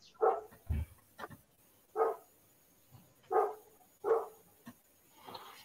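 A dog barking nearby, about six separate sharp barks in an uneven rhythm, fairly quiet overall against a hushed background.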